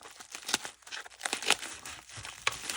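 Plastic bag of art supplies being opened at a crafting table, with a crinkly, rustling crackle and a few sharper crunches and snips, fairly close and heard on its own.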